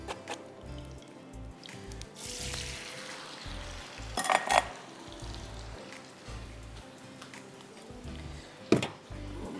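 Turmeric- and salt-coated taro (arbi) strips fry in hot oil, giving a steady close sizzle with crackles and a few louder bursts; no one speaks.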